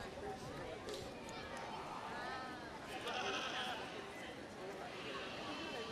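Goats at a livestock show bleat repeatedly amid a busy, noisy barn, several calls overlapping at moderate distance while people talk in the background.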